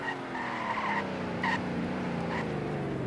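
A sedan in the Greenville driving game brakes hard, its tires squealing and skidding over a continuous engine drone, with no talking.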